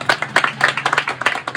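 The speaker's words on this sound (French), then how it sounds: "S'il vous plaît, est-ce qu'on peut applaudir sa présence?" Scattered, brief hand clapping from a small audience in a bar welcoming a guest, a short burst of uneven claps with no voices.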